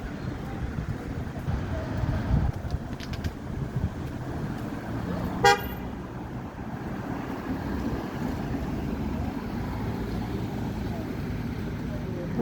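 A vehicle horn on a street beside a walker toots once in a short sharp blast, carried over steady outdoor rumble and wind with voices nearby.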